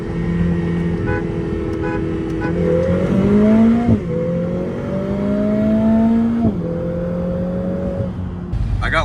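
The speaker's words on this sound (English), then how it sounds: "We're actually gonna do a couple side-by-side runs just to see who's quicker, the V6 or the 4-cylinder." Lotus Emira cars, a supercharged V6 with manual gearbox and a turbocharged 2-liter four-cylinder with DCT, accelerate hard side by side; loud rising engine notes climb through gears with clear shift drops, no talk.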